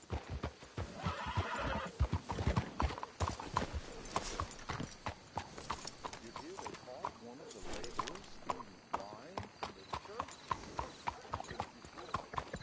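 Horse hooves clip-clop along in a Red Dead Redemption 2 scene, a steady walking rhythm close by with a whinny, while characters talk over the hoofbeats.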